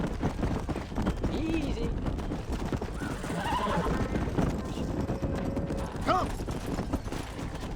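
Horses in the Red Dead Redemption video game whinny and clip-clop on hooves under steady ambient game noise, with a voice talking over the scene.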